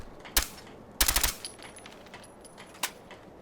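Suppressed .45 ACP gunfire in Fallout 4: a few sharp muffled pops, first a single shot, then a quick cluster of four, then a lone shot, each crisp against a quiet background.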